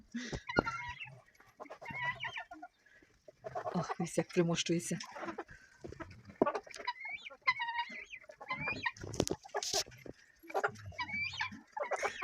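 Chickens, ducks and guinea fowl cluck and squawk close by in a farmyard, with a person speaking now and then among the birds.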